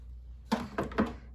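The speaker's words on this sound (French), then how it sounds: "Je vais couper mon fil." Scissors cut crochet yarn, giving three quick, close, crisp snips in under a second against a quiet background.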